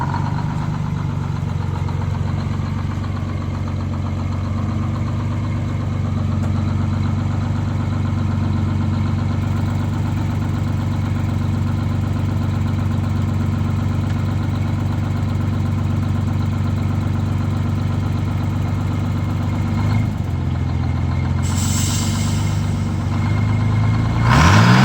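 An International cabover truck engine drones steadily at close range during a test drive, a constant low rumble that briefly shifts near the end as the truck slows.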